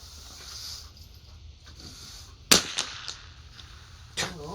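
One sharp, fairly quiet crack of a Vudoo V22 .22LR rifle fired from a benchrest, followed by a few faint clicks and a second softer snap against low outdoor background noise.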